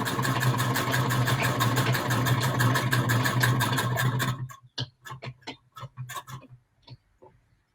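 A sewing machine stitching strip-pieced patchwork runs in a fast, even mechanical whir for about four seconds, then stops and gives several short separate bursts of stitching with pauses between them, close and fairly loud.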